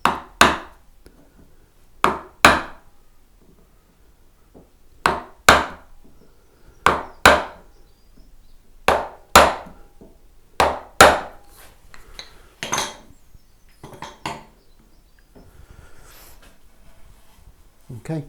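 An awl pressed and tapped into the wooden headstock of a Telecaster-style guitar build, giving a series of sharp, close knocks in irregular pairs with quiet gaps between them.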